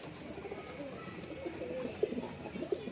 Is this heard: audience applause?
no